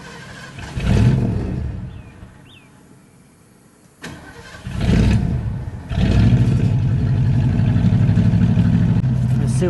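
A Ford LTD engine idles and runs steadily after a carburetor rebuild, a close, loud, continuous rumble broken by a brief dip before it settles back in; a voice talks over it near the start.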